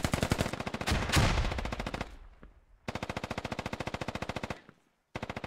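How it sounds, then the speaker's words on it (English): Automatic machine gun fire in the video game Squad, with long rapid bursts of evenly spaced shots, a short gap, another sustained burst and the start of a third, loud and close with no talking. "Yeah, well, a little firefight breaking out."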